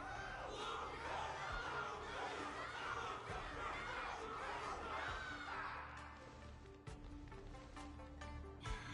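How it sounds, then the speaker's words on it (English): A large crowd at a battle roars and chatters continuously, loud and dense at first, then thinning into scattered voices and clatter near the end. "Everyone's cheering for you"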